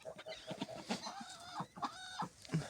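Chickens cluck and murmur in short, repeated calls close by, with a few sharper squawks mixed in and no talking.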